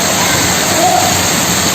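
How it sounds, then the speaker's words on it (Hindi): Heavy rain at Ramdevra pours as a dense, steady roar of water throughout, loud and close with no breaks. "बारिश आ गई है, देखो बहुत हार्ड वाली"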